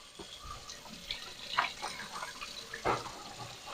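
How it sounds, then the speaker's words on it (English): Broccoli being rinsed under a running kitchen tap, a steady splashing stream with a few louder bursts as the florets are turned, close and continuous with no voices. "I'm just rinsing off my broccoli"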